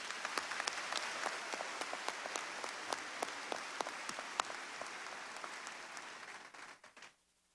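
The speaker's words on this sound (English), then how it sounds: "another big round of applause" At a Southeast Missouri State University spring 2023 commencement, a large crowd applauds with thick, sustained clapping and sharp individual claps standing out, then tapers off and fades to quiet.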